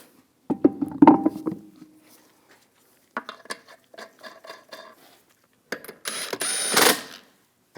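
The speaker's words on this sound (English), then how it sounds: "Put the wheel on." A wheel is fitted back onto a 2015-2022 Chevrolet Colorado, giving scattered metallic clanks and clinks in short bursts. A louder scraping clatter comes near the end, and there is no talking.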